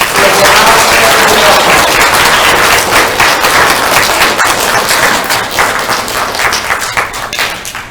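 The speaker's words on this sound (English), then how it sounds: "let's give Ms. Lewis's class a thunderous applause" A school crowd at a 3rd and 4th grade end-of-year award ceremony gives loud, thunderous applause for a class, many hands clapping in a continuous close roar that holds for several seconds before slowly thinning.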